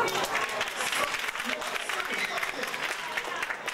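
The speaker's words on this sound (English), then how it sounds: "Well, you can clap if you want to." An audience breaks into sustained clapping and crowd noise, steady and fairly loud, with voices mixed in beneath the applause.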